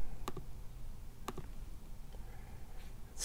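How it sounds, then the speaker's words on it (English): Someone types a phone number on a computer keyboard to place a Skype call: a few quiet, widely spaced key clicks, single taps with short pauses, close and faint. "And typing the number very carefully."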